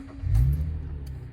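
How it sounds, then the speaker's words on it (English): A Subaru Tribeca engine cranks and catches with a short low rumble, then settles into a steady idle, heard close with no voices. "Now we're going to start our vehicle."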